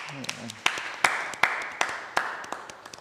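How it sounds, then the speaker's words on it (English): Scattered claps from a small audience thanking the panel at the close of a round-table session at a startup conference, sounding as a sparse, uneven series of individual hand claps. "let us actually give you all a round of applause for all the panel members."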